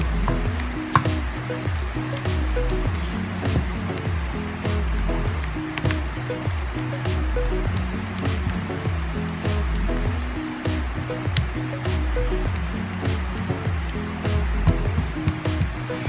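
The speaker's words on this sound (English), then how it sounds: "Just add water in batches so we can form our glutinous rice flour into a dough." Water is worked into glutinous rice flour by hand to form buchi dough, giving a loud, steady, wet squishing and sloshing with a regular kneading rhythm and no talk.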